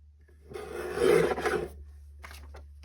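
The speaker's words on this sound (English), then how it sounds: "I'm just gonna go ahead and cut it right even with this one" Scissors or a blade cut through paper for a journal cover in one short, close rasping stroke that swells and fades, followed by faint scratchy rustles, with no talking.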